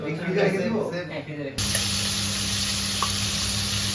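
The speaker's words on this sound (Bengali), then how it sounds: "মাংস রান্না শুরু হয়েছে, দেখতেছেন মাংসগুলো ভাজা হচ্ছে" Meat frying in a pan at a Bangladeshi student party, a steady close sizzle that jumps up sharply partway through and then holds evenly, with voices talking over the first part.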